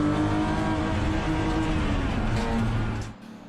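4- and 8-cylinder race cars battling on track, one a Holden Monaro, a loud close engine howl holding steady revs before dropping away abruptly near the end.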